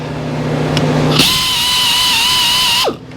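A diamond wheel sharpener grinding a saw blade, heard as a bright, steady whine that starts abruptly, holds for under two seconds, then winds down, after a low hum.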